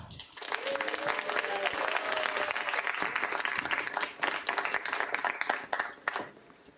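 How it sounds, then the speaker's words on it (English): Audience applause at a panel event as a guest is introduced, a burst of clapping that swells quickly, holds steady for several seconds, then breaks into scattered claps and fades. "So, round of applause for John Gita."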